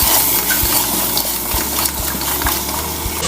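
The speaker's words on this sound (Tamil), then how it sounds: "இப்போ தேங்காய் உள்ள சேர்த்ததுக்கப்புறம் நல்லா கலந்து கொடுத்துக்கலாங்க" A spoon stirs coconut paste into a thick mutton head gravy, scraping and tapping against the pot in a steady rhythm over a constant low hiss from the stove.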